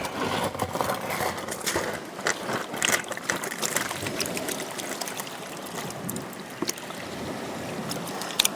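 Beach sand being panned for gold in a banjo pan on the Lake Superior shore, with irregular watery sloshes, trickles and gritty scrapes repeating over a soft steady background.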